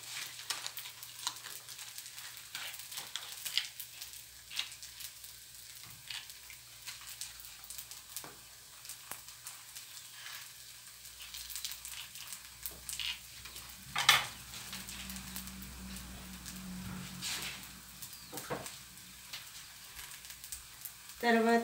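Butter melts and sizzles in a pan for a zucchini carrot dosa, a quiet, steady crackle broken by occasional clinks of utensils and a louder scrape partway through, with faint talk in the background.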